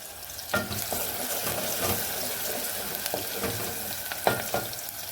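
Water runs steadily from a tap while dishes clink and rattle now and then, close by, with a couple of sharper knocks standing out.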